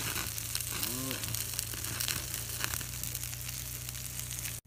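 Shrimp grilling on a hot stone pan, giving a steady dense sizzle and crackle throughout, with a voice talking briefly over it.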